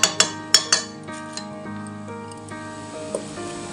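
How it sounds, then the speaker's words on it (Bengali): A knife stirs chicken biryani in a metal pot, with several sharp metallic clinks at the start, then softer scraping and an occasional ringing tap, close and without talk. "আমি ছুরি দিয়ে নাড়তে হচ্ছে"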